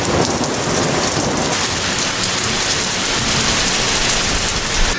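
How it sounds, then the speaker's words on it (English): Heavy rain pours steadily and loudly throughout, a dense hiss of drops with low rumbles of thunder beneath it. "currently pouring in thunder and rain."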